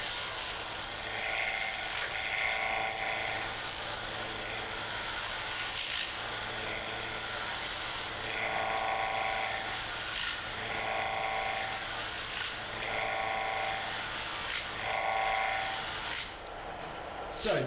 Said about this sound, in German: Dann kann ich weitermachen und mich durch die verschiedenen Körnungen schleifen.